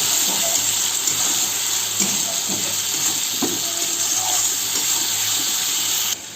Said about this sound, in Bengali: এবার আমি এর মধ্যে একটু জল দিয়ে ধুয়ে দিয়ে দেবো